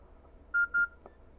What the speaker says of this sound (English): if you heard a double beep, that's because the 30-second timer just disconnected us